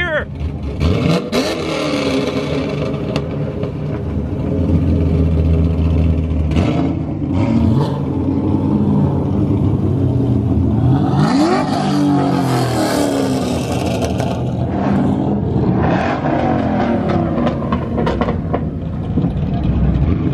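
Car engines revving at a Cars and Coffee meet with Japanese cars, loud rising and falling revs in repeated bursts alongside steady rumble, with people talking and cheering over the noise throughout.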